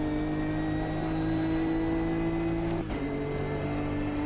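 A race car engine in the racing video game Automobilista 2 drones at high revs, steady and loud, then briefly dips as it shifts before pulling on again.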